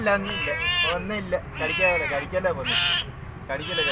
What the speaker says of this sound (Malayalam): പൂച്ചേനെ ഊരി എടുക്കാനുള്ള ശ്രമങ്ങളാണ് നോക്കുന്നത്